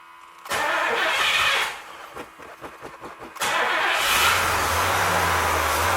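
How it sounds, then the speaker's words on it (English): A freshly rebuilt 1964 Pontiac 389 V8 cranks in a rapid stutter, catches, and roars into a loud, steady run that drops toward a rough, uneven idle, recorded up close with no talking. "She just doesn't want to idle."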